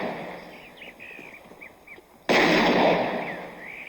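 In the 1989 western film Lonesome Dove, birds chirp in open country before a single loud gunshot bursts out and rings on with a long echoing tail.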